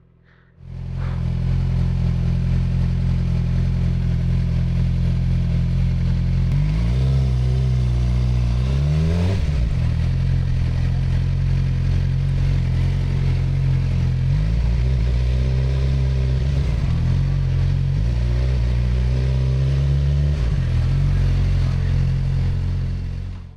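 A Ducati Streetfighter motorcycle on a neighborhood street idles with a deep, steady rumble, rising in three throttle revs before settling back each time, loud and close throughout.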